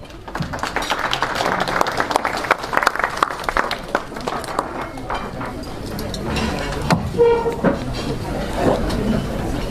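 An audience applauds a young player walking up to the stage at a pre-match event, the clapping mixed with crowd noise and chatter that grows busier toward the end.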